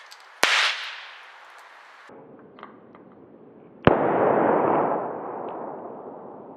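A homemade film-effects squib detonated by touching a wire to a battery: a sharp bang at about half a second, then a second loud pop near four seconds followed by a lingering hiss and crackle, with no talking.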